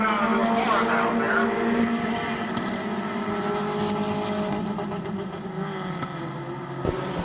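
Race cars lapping the oval at Midvale Speedway, engines droning and shifting pitch as the field passes, steady and moderately loud with faint announcer talk beneath.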